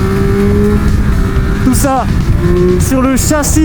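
Triumph Speed Triple 1200 RR, a 2022 1200 cc triple, running with a steady low engine drone under continuous close talk, the tone shifting slightly as revs change.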